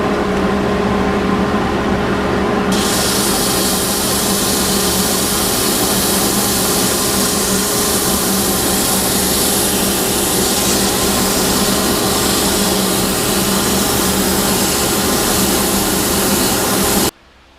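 A steady, loud lathe motor hum with a broad abrasive hiss of sanding against a spinning segmented walnut and ash vase, continuous for a long stretch before stopping abruptly.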